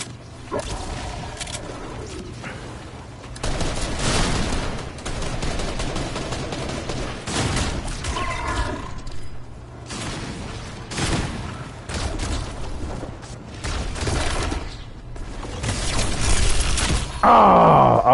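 Cannon fire in Fortnite booms several times amid game combat, loud repeated blasts and impacts spaced irregularly across the scene with other game effects between them.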